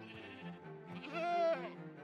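A goat in Minecraft gives a single short, wavering bleat, faint and alone, with a brief rise in the middle.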